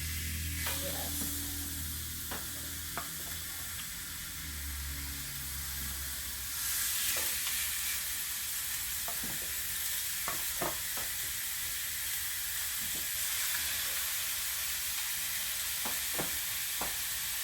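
Thick pork chops frying in a pan on the stove, a steady sizzle with occasional stirring or shifting clicks and bumps, close and continuous without talk.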